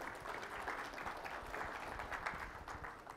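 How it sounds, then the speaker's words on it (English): Audience applause welcoming a speaker at a MongoDB data modeling talk, a steady dense wash of many hands clapping throughout, moderately distant and fairly quiet, with no talk over it. "Please give a warm round of applause to welcome Jay."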